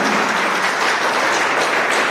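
An audience at a children's felicitation event attended by railway officials claps loudly and continuously, a dense, steady wash of applause with no pauses.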